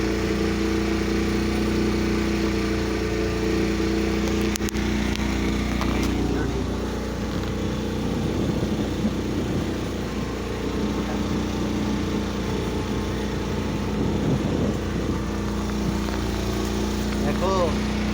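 A motor boat engine drones steadily on a Kerala backwater ride through mangroves, a continuous mid-pitched hum running throughout with people talking over it.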